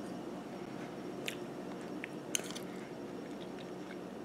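Someone eats spaghetti squash dressed with butter, pepper and Parmesan, giving soft close chewing with a few faint wet clicks over a quiet room hum.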